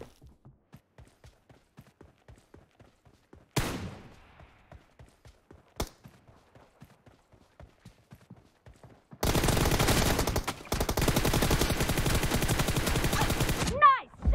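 Gunfire in the shooter game PUBG Mobile during a one-on-one team deathmatch: a rapid run of short, regular shots for several seconds, a few louder isolated blasts, then a dense, loud sustained burst of fire near the end.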